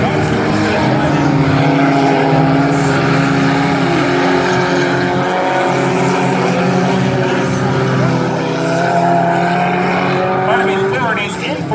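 Four-cylinder class race cars roar around Valley Raceway in a heat race, several engines droning together continuously and loudly, with pitch rising and falling as the pack passes and a brief higher whine near the end.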